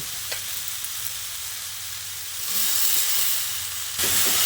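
Chopped greens tipped into a pan of tomato, potato, pointed gourd and pumpkin frying in oil, giving a steady loud hiss and sizzle that swells as they go in and are stirred.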